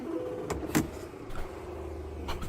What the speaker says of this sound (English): Oh my god, all the engine sounds.